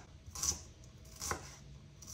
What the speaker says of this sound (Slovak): Takže bielu časť pokrajáme na také menšie kusky.